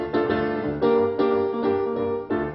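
The swinging opening of a song reworked in a plain minor mode, heard as a steady rhythmic ensemble phrase with repeated accented chords and a bass line, loud and continuous.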